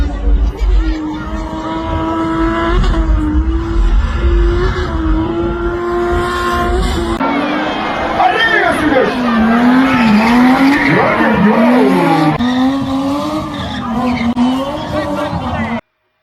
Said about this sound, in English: You've seen Sunesh's car doing snakes. I'll try to put a clip on the screen.